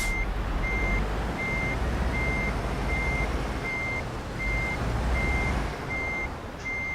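Truck reversing beeps in Euro Truck Simulator 2, a steady run of about a dozen evenly spaced high beeps over a low diesel engine rumble, with a short air hiss near the end.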